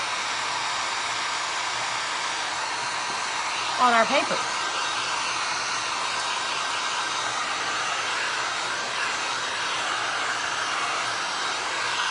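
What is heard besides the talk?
hair dryer drying Mod Podge glue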